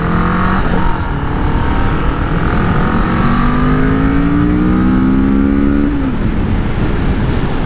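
Kawasaki Vulcan 650 motorcycle engine on the road, loud and close, revving up through the gears with rising pitch and dropping back between shifts over steady wind rush.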